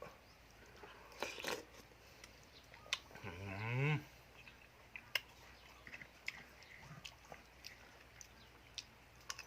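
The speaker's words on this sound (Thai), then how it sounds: "น้องควายครับผม" One rising, drawn-out moo from a water buffalo calf sounds a few seconds in, surrounded by quiet chewing, smacking and scattered clicks.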